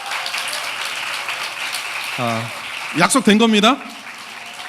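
A church audience keeps up a soft, continuous patter of clapping in the background as someone speaks a short phrase over it.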